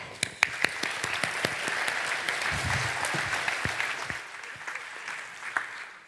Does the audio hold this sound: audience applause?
yes